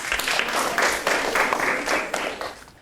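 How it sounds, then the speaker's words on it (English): A group of primary-school children claps together in a classroom drama lesson, uneven bursts of close clapping in several pulses over a few seconds, with no talk. "Can everyone give them a big clap?"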